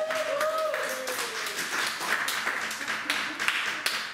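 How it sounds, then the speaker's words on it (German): A small audience gives a short round of applause, scattered hand claps overlapping a few voices, moderately loud and lasting a few seconds. "Applaus, ein kleiner Applaus."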